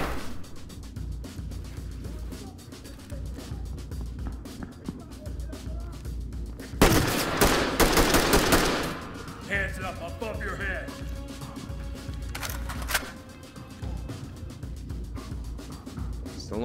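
Gunfire in the tactical shooter Ready or Not inside Coastal Grove Medical Center, a loud burst of close shots at the midpoint and a few sharp cracks later, over steady background noise and voices.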